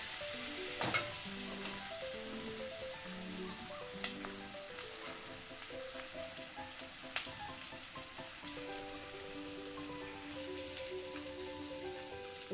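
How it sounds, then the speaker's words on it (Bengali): Onions and garlic paste frying in oil in a pan for moong dal with fish head, a steady dense sizzle and crackle running continuously throughout, close and alone without talk. "ওদিকে পেঁয়াজটা ভাজা চলছে"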